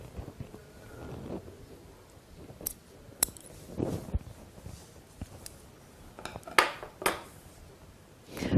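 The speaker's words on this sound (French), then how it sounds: "Et je recoupe ce qui est trop long." Scissors snip ribbon being trimmed on a summer shoe, giving a few sharp, close cuts spaced irregularly over quiet background, with soft handling rustle between them.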